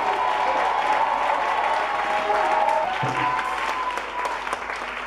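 A church congregation at a Sunday service applauds loudly and steadily in a reverberant hall, with faint cheering and voices mixed into the dense clapping.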